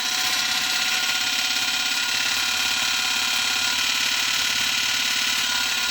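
Electric motor driven by a variable frequency drive at 28.9 hertz, giving a steady continuous hum with broadband whine and fan hiss, unbroken and fairly loud throughout.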